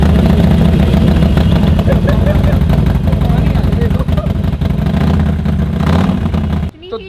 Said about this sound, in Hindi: ये चाबी लगी हुई है, लाउडेस्ट है, तो इसको आप स्टार्ट करके देख लो।